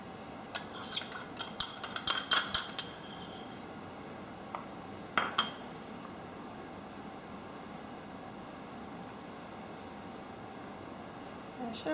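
A metal utensil scrapes and clinks against the inside of a peanut butter container, with a quick cluster of scratchy taps early on and a few isolated scrapes after, then quiet.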